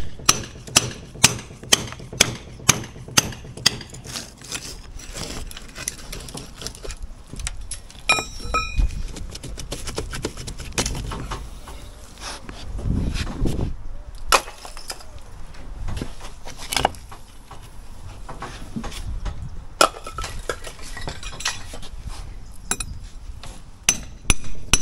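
A hammer knocks bricks free of rock-hard mortar on a garage wall, giving a string of sharp metallic strikes that come rapidly at first, then settle into irregular blows with scraping and clinking in between.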